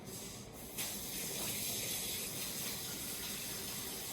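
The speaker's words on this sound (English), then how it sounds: "So I'm going to quickly wash up my hands again" Hands are washed under a running tap in a home kitchen while cooking: a steady, close hiss of flowing water splashing into the sink, continuous throughout with no voices.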